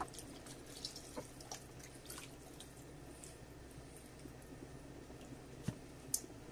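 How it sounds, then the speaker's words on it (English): Half a liter of broth is poured into a pot of red beans and chicken stew, a faint, soft liquid trickle with a few light drips and splashes. "And now I'm going to add the broth. A 1/2 liter broth."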